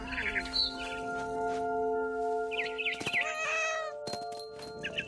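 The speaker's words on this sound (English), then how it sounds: "And suddenly, I was a cat." A cat meows repeatedly in What Remains of Edith Finch, short close calls set over sustained tonal game music.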